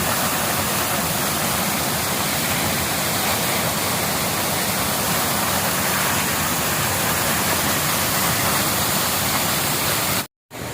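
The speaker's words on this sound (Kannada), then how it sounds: "ಭಾಳ ಅದ್ಭುತವಾದ ಫಾಲ್ಸ್ ಇದು ಗೆಳೆಯರೆ" Hogenakkal Falls roars as a dense, unbroken wall of rushing water, loud and close, with no voices, cutting out abruptly near the end.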